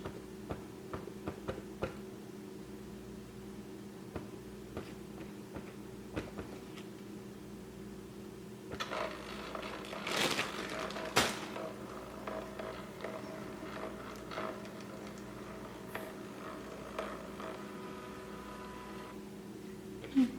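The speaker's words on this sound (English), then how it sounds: "I have a labeler that I am going to label." Quiet mechanical ticking and clicking with a steady low hum, a couple of short whirring bursts in the middle, like a small label printer feeding tape.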